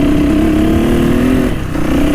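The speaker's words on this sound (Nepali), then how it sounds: "खड्की भाइलाई चाहिँ लास्टै गाह्रो भइरहेछ मेरो बाइक चलाउन" A dirt bike engine drones loudly and steadily at close range while being ridden off-road, holding a constant mid-pitched tone with a brief dip in revs near the end.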